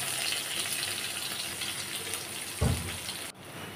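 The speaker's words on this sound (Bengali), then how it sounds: "তেলের উপরে আমি পেঁয়াজটাকে ভেজে নেব।" Chopped onion frying in oil in a pan for a red lentil and sweet pumpkin dal, a steady, fairly quiet hiss and sizzle with one brief louder burst near the end, no talking.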